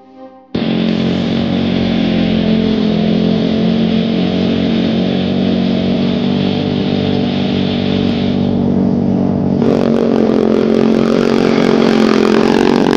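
The engine of a DTV Shredder tracked vehicle starts abruptly and roars loud and close while riding, holding a steady buzzing drone and revving harder toward the end.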